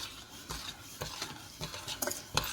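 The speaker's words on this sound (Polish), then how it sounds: "mieszać to. Ja sobie zmieniłam na rózgę." Whisk stirring a mixture for a layered cake in a bowl, giving repeated scraping strokes at a quick, uneven rhythm, fairly close and moderately loud.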